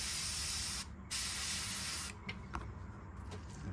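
An airbrush with a 0.818 needle sprays paint onto a fishing lure in a ruby red craw pattern: a loud, steady hiss that cuts out briefly, resumes, then drops to a softer, sputtering spray.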